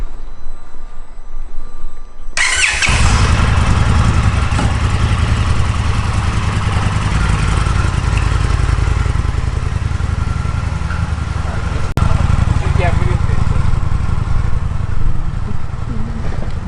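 An Indian FTR 1200S motorcycle engine cranks and fires up after a short quiet moment, then settles into a loud, steady, throbbing idle close by that runs without a break.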